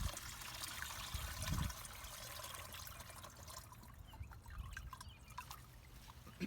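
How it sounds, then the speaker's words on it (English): Wet clay slurry pouring through a strainer, a soft continuous trickle and splatter of thick liquid with a heavier gush near the start, close by and fairly quiet. "I'm going to pour that through the strainer"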